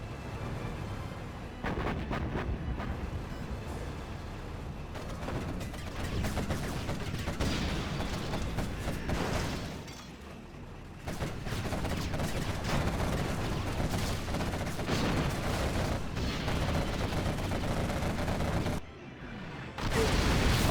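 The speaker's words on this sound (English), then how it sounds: "Artillery finishes off the last market." Video game artillery fire rumbles in dense, continuous booming barrages with rapid gunfire mixed in, loud and relentless, briefly easing twice before resuming.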